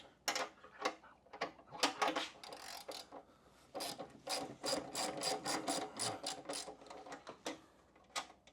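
A 9/16 wrench loosens a bolt on a Harley M8 motorcycle while the other side is held with an Allen key, giving a run of close, crisp ratcheting clicks in quick uneven bursts with short pauses.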